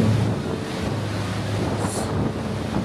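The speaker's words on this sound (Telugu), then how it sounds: "the beautiful బారాచుక్కి water falls in front of you guys" Bharachukki waterfalls rushing on a rainy day, a steady broadband roar of falling water mixed with gusty wind buffeting the microphone, constant and fairly loud throughout with no voices.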